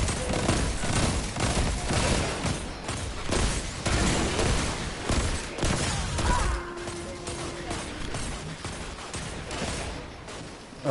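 Video game gunfire with a shotgun and a shrapnel launcher, a dense, continuous barrage of loud overlapping shots and blasts running the whole time with no clear pauses.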